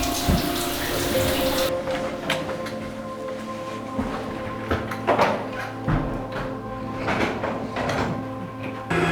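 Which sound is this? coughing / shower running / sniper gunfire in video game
shower running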